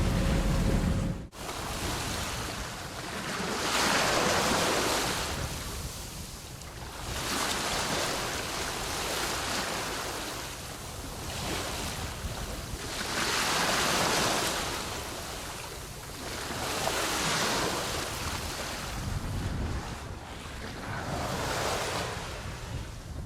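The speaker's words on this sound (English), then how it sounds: "There's a nice steady breeze." Steady wind and ocean waves sound aboard a Nordhavn 56 under sail with the main engine shut off. Broad rushing surf swells and fades in slow surges, and wind buffets the microphone throughout.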